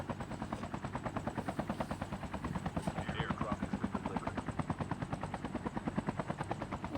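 Helicopter in a video game with a steady, close rotor thump, a fast even beat running throughout without pause, loud and dominant, with a brief higher whine near the middle.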